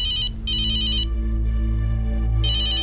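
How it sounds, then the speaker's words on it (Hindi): A telephone rings with an incoming call, sounding three bright, electronic trilling bursts separated by short pauses over a low steady hum, with no one speaking. "मैडम खबरी पक्के का फोन।"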